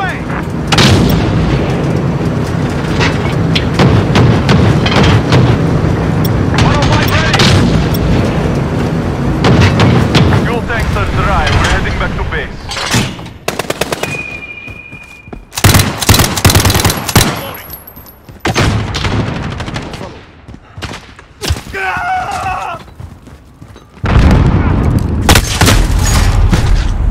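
Uzi submachine gun fire in the Modern Warfare video game, loud close rapid bursts mixed with booming explosions and gunfire, broken by brief pauses and short electronic game effects.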